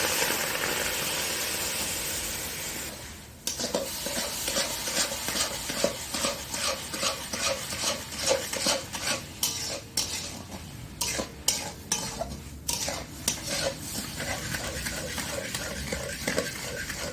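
Sugar and water stirred in a wok over heat for a coconut filling, with steady scraping and clinking of a spoon against metal over a soft sizzle, close and continuous without speech.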